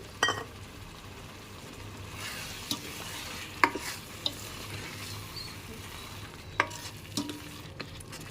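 A boiled egg curry bubbles and simmers softly and steadily in a pan, with faint sizzling and a few sharp spoon clinks against the pot.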